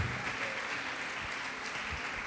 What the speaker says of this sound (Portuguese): Pode aplaudir, glorificar o Senhor Jesus por isto.